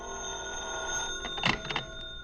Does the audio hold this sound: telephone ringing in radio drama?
yes